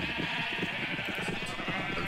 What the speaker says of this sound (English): Those sheep are going to have to be dealt with one way or another.